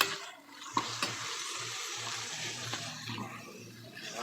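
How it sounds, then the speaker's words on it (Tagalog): Onion, tomato and garlic sauté in a pan with a little broth added, giving a steady moderate sizzle with a few sharp stirring clacks near the start, close by and with no talking. "nagisa ako ng sibuyas, kamatis at bawang"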